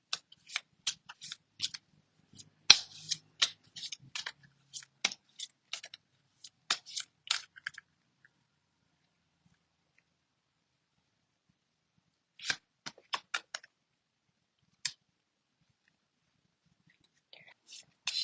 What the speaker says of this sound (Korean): 연애운을 지키기 위해서는 어떤 게 필요할지 조언의 카드 뽑아보도록 하고요